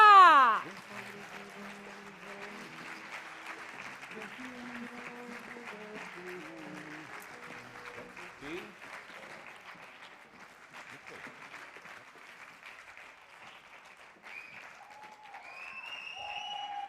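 An audience at a carnival gala claps warmly to welcome a legendary singer to the stage. The applause is dense and sustained throughout, with a loud burst and some tonal sounds at the very start and brief tones near the end.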